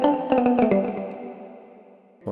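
Muted guitar synth preset built in Vital inside Cubase, a few short plucked chord hits with a small echo, then a sustained chord slowly fading, alone and fairly close.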